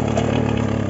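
A Karpaty moped engine runs with a steady buzzing drone throughout a short burst, close and loud.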